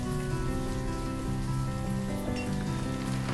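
Rain falling in a town-building farming video game, a dense, steady patter of drops on surfaces, constant and moderately loud under faint game music, with no speech.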